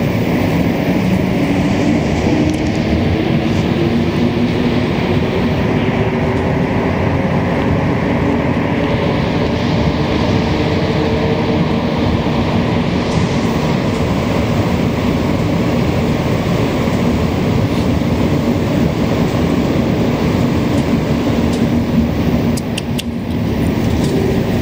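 A Montreal metro train on the Green Line rumbles steadily at rush hour, a loud continuous roar of wheels and motors with a faint rising whine, heard from inside a moving car.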